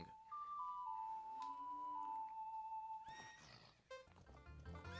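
A horse whinnies loudly in a long, wavering neigh, followed by a short snort and some softer shuffling sounds, in The Legend of Zelda: Ocarina of Time video game.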